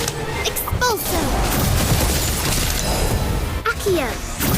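Expulso spell blast in the video game Harry Potter: Magic Awakened, a dense burst of crashing, booming impacts with swooshing magical effects layered over busy game noise, with a short spoken voice cue near the start and end.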